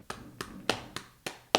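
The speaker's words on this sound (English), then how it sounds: "The clap, I didn't believe in this until Joseph told me, is so that you can line up the audio and the video." Sharp hand claps, about six in quick succession, close and dry with no talking, made while someone tries for a single strong clap to sync sound and picture at a casual podcast interview recording.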